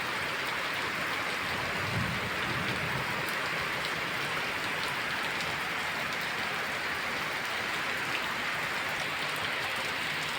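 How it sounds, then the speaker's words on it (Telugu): Heavy monsoon rain pours steadily in a dense, even hiss of countless drops striking surfaces, continuous and alone, with no voices. "ఈ విధంగా విస్తారంగా వర్షాలు పడుతున్నాయి"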